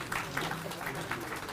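Faint crowd applause honouring an award recipient at a 20th anniversary ceremony of the Jharkhand Legislative Assembly, a soft, continuous patter of hands with a voice faintly audible alongside.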